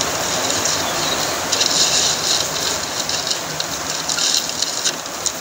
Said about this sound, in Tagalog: Parang dumaan lang yung ulan.